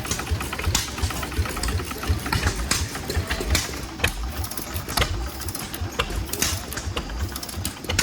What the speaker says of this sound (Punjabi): ਆ ਇੱਕ ਛੋਟਾ ਜਿਹਾ ਥੱਲੇ ਪਿਆ ਜਮਾ ਜਮਾ ਹੀ ਛੋਟਾ ਜਿਹਾ ਇੰਜਣ ਆ ਇਹ